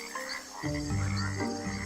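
Cane toads croak in a close, loud chorus of low, buzzing trills that overlap and swell partway through, with no talking.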